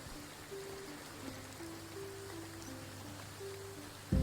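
Steady night rain in the Graveyard Keeper game, a soft continuous patter and wash that runs throughout beneath low ambient tones, moderately quiet and even.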